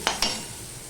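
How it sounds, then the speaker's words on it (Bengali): Steady sizzling of tomatoes and onions frying in a pan for a fish curry, with two quick scraping stirs near the start and no voices. "টমেটো পেঁয়াজ এগুলো ভালো করে ভাজা হয়ে গেছে"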